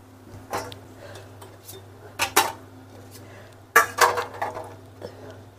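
Grated carrots tipped into a pan of khoya for gajar ka halwa, heard as a few bursts of metal clatter and scraping against the pan over a low steady hum, with quiet gaps between.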